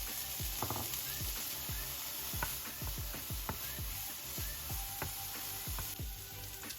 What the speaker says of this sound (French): Dans une poêle, faites revenir les lardons sur feu vif jusqu'à ce qu'ils soient bien dorés, sans matière grasse.